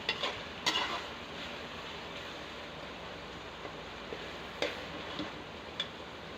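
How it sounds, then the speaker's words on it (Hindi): Chicken mince for aloo keema stirred and fried in a pan, a soft constant sizzle with scattered light ticks and scrapes of the spoon, fairly quiet. "अच्छी तरह से भून लेंगे"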